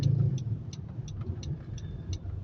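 Street traffic in Cagayan de Oro City, a low engine rumble of passing vehicles with faint idling, moderately close and steady with no talking.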